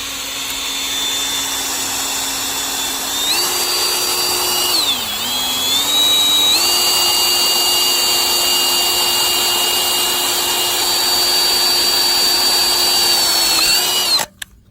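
Power drill boring out a rounded plug in a Detroit Diesel 671 cylinder head, a loud, close, steady whine that shifts pitch a few times as the load changes, then stops abruptly near the end.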